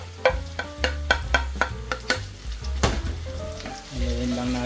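Tomato frying with ginger, garlic and onion in a pan, close sizzling with a series of sharp rhythmic clacks from stirring and scraping, followed by a steadier sizzle.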